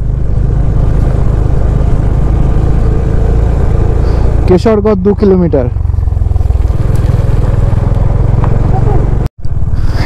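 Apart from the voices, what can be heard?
motorcycles riding on a road through forest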